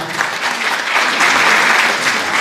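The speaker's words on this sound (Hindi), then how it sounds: "तो एक दफ़ा इनके लिए भरपूर तालियाँ हों" Sustained audience applause fills a book inauguration and mushaira gathering, steady dense clapping from a sizable crowd throughout, loud and close with no talk over it.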